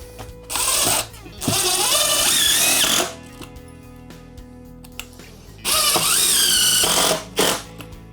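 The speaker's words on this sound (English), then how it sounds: "place my wood into that, and then screw it down" Cordless power drill driving screws into wood during a bathroom renovation, several loud whirring bursts of one to two seconds each, with short pauses between them and the pitch dropping as the screws seat.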